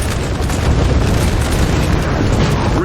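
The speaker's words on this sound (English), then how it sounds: "And now the artillery is set up. They're going to start canistering the..." Artillery firing canister shot in the Napoleon Total War battle game, a dense, loud, continuous roar of booming blasts and rumbling fire with no pauses.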